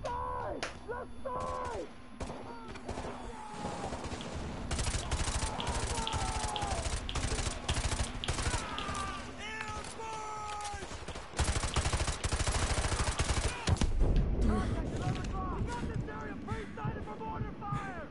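Gunfire rattles through a Call of Duty: Modern Warfare 2 Remastered battle, with rapid machine-gun bursts and single shots amid rising tonal game effects and shouting voices, loud and nearly continuous.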